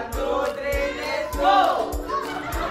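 Children's team at a fourth birthday party at a Shakey's restaurant chant and shout a cheer together in a loud, rhythmic group, with sharp regular beats like stomps or claps about every half second.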